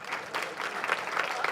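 An audience claps steadily in a dense, even burst of applause that lasts throughout, moderately loud with no pauses.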